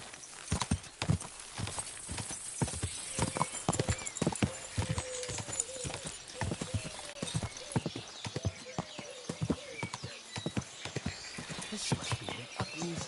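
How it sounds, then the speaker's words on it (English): Horse hooves clip-clop in a steady, close rhythm on a hard path in Kingdom Come: Deliverance II, with a brief whinny and some talk over the footfalls. "This must be the ugliest horse"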